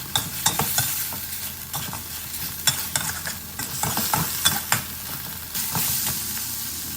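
Pork leg stir-fried with kaffir lime leaves in a pan, with steady sizzling and frying broken by repeated scraping strokes of a spatula, close and continuous with no talking.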